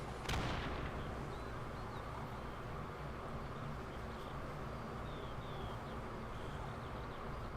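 A rifle grenade explodes in Company of Heroes (Robz mod, 1v1 match): one sharp blast near the start, then a low, steady battle rumble with faint chirps scattered over it. The whole scene stays quiet and distant.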